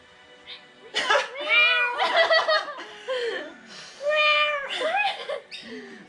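A young girl in a kids' workout imitates a lion's roar with a string of voiced, wavering growls and squeals, bursting out several times in close succession with giggly breaks between them.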